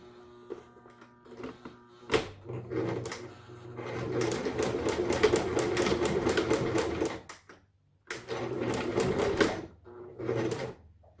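A sewing machine stitches a washable fabric face mask in two close, steady runs, a longer one of about three seconds and then a shorter burst, with brief clicks and handling noises between them.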